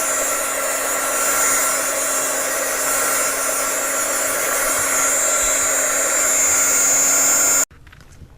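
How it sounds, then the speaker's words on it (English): A Heidi Swap heat tool blows continuously at close range with a steady whirring hum while drying a craft face mask, cutting off abruptly near the end. "And then we're going to dry it with our heating tool."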